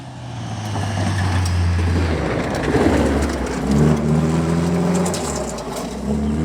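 A rally car on a gravel forest stage in Oregon roars past with a heavy engine drone that rises and shifts in pitch, loud and close, with gravel crunch and wind noise.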